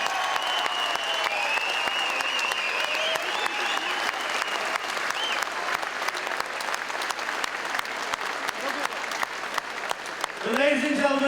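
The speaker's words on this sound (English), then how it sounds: "Round of applause." A fight night crowd at a K1 kickboxing event applauds loudly and steadily, dense clapping filling the whole stretch, with a voice briefly rising near the end.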